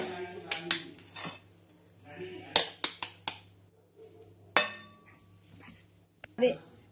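Hot peanut chikki mixture scraped out of a pan into an oiled plate, with a string of sharp metallic clinks and scrapes of a utensil against steel, irregular and close, over a low background hum.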